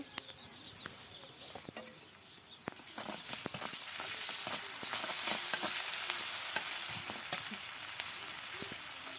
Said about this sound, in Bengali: এবার পেঁয়াজ বাটা দিয়ে দিল রসুন বাটা জিরা বাটা আর আদা বাটা দিয়ে দিল